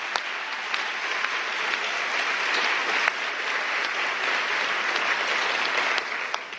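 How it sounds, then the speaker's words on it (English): Sustained applause from a forum audience honoring relationship managers, a dense, steady wash of many hands clapping with no voices above it. "they deserve a big round of applause"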